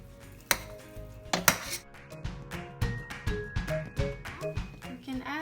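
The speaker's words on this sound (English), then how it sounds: "we will add in the cooked pasta. Mix the sauce and pasta well." Cooked pasta being tossed through sauce in a pan, a run of clinks and scrapes of a utensil against metal and dish tapping in an irregular rhythm, close and fairly quiet.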